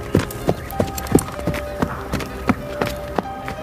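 Steady hoofbeats clip-clop at an even trotting rhythm, fairly close, with a faint tonal hum in the background and no talking.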